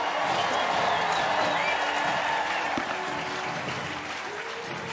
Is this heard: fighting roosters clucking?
no